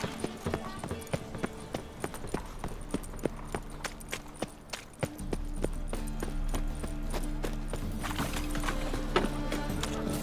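Horse hooves clip-clop in a brisk trotting rhythm over game music in The Witcher 3: Wild Hunt, loud and continuous, with a faint whinny.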